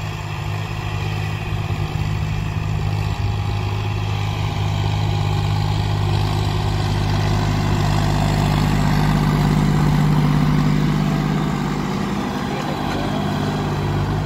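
A John Deere 4x4 tractor engine idles steadily in a farm field, a low even rumble with a constant hum that carries on unchanged throughout.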